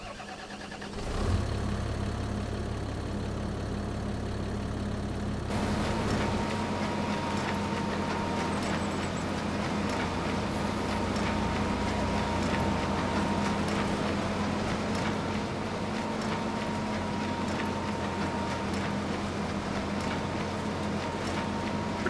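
A tractor engine in a field starts with a short deep chug, then settles into a steady mid-pitched idle and run, loud and near, with no talk.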